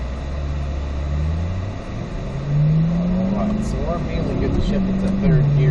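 Race car engine on a track, a loud droning pitch that dips at a gear change and then climbs steadily under hard acceleration, up close from inside the car, with a voice talking over it.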